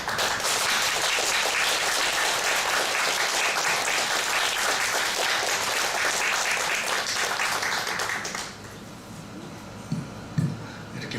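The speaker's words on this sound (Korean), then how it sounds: "큰 박수로 맞아주시기 바랍니다" A church congregation at a testimony service in Gunpo gives a pastor a loud, sustained round of applause that fills the hall for about eight seconds, then quickly dies away to a few scattered claps and light room noise.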